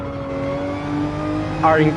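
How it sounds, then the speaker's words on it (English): A Ferrari Gr.3 race car's engine drones steadily in Gran Turismo 7, holding a sustained mid-pitched note with a brief rising rev near the end, loud and close. "maybe it's just because the Ferrari sounds so much better"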